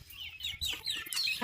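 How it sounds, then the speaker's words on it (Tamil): Chickens cluck in short choppy bursts near a backyard coop with a rooster present, quiet and close, no talking. "ஒரு சேவல் இருக்குது"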